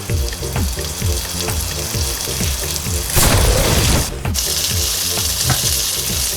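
Pieces of beef for pot roast sear in hot oil with a loud, steady sizzle and frying crackle, punctuated by a brief splashing burst midway, with no voices.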